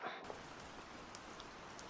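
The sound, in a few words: rain falling in a video game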